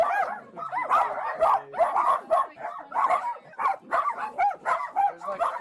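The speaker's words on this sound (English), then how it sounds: "There's already 8 dogs at the door." A pack of dogs of the same breed bark rapidly and continuously in a home invasion horror game, overlapping yaps and yips, loud and close.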